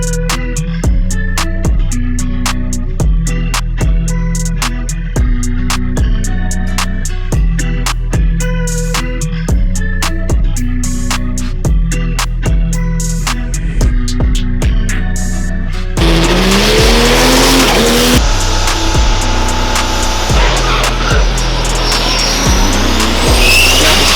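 A diesel Pro Mod race truck at a drag strip event launches with a loud engine roar and tire noise, after a stretch of rhythmic thumping music, the launch bursting in as a dense, sustained blast.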